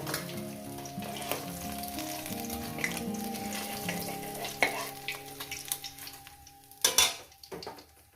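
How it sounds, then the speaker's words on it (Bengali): Pieces of catla fish fry in hot oil with a steady, close sizzle, broken by a few sharp clinks and scrapes of a utensil against the pan, with a louder clatter near the end; no one speaks. "আরও তিনটে মাছ আছে সেগুলো একবার ভেজে নিয়ে দিচ্ছি"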